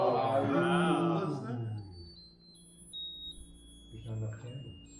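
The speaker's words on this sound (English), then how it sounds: "There goes the smoke alarm." A smoke alarm beeps with thin, high, steady tones through a room of cheerful voices, quieter than the talking around it.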